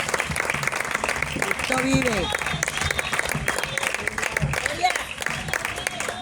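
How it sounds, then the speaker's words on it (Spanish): A church congregation applauds loudly in a worship service while a preacher shouts praise over the clapping, with crowd voices mixed in. "Bríndele otro fuerte aplauso al Señor."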